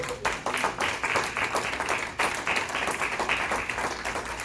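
A church congregation claps together in quick, rhythmic, evenly spaced beats that run steadily throughout at moderate loudness, with no speech over them.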